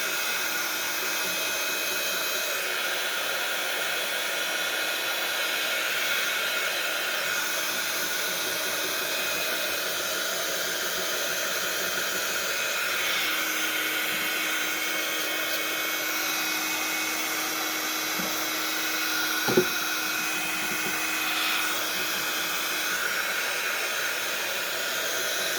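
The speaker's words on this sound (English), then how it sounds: "let's give that a quick dry." A hair dryer blows steadily on a decoupage mixed media journal page, a constant airy whir that runs without a break, with one brief faint click partway through.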